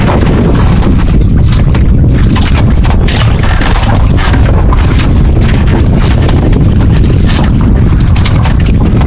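Strong northeast monsoon wind at sea roars continuously across the microphone on a small fishing boat, a loud, dense rumble mixed with rushing air and the thud of waves against the boat.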